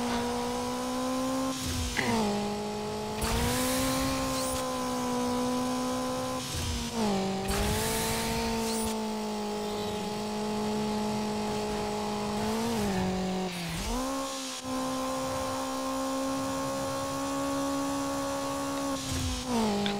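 A car engine in Need for Speed Underground runs on nitrous boost across dirt, a loud sustained high-revving roar that rises and dips with gear changes and brief tire scrubbing, heard alone.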